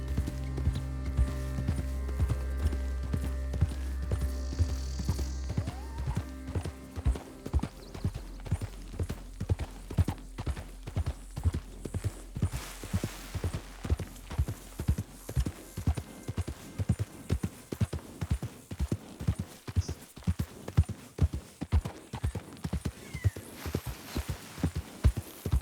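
Horse hooves clip-clop in a steady, even rhythm while riding in Red Dead Redemption 2, starting after a low rumbling hum and continuing as a clear, close, regular gait for the rest of the stretch.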